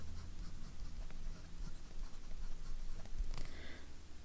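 A Lamy 2000 fountain pen with a fine nib, inked with Inkvent Nightshade, scratches softly across paper in short strokes and light taps, close but faint over a steady low background hum.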